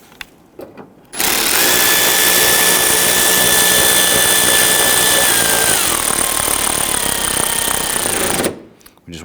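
A power tool runs continuously for about seven seconds, loud and close, with a steady buzzing whine, while driving a 10mm bolt into the front bumper cover of a 2011-2023 Dodge Charger 3.6L V6.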